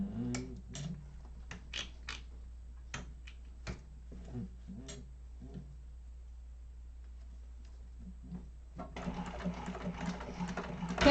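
A sewing machine top stitching a fabric organizer bag, starting and stopping in short bursts of stitching, then running steadily for the last couple of seconds.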